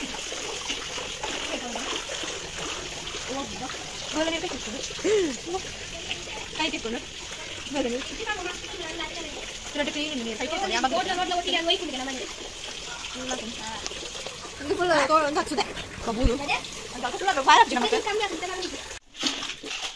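Water splashes and sloshes inside a flooded house in Tulu Nadu, a steady wet churning that grows busier toward the end, with people talking over it throughout.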